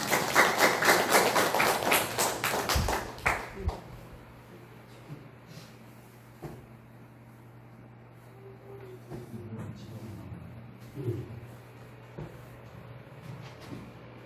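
Dense rhythmic clapping from a church congregation at a Korean Sunday worship service, welcoming the preacher, loud for the first three seconds and then stopping, leaving a quiet hall with faint scattered bumps.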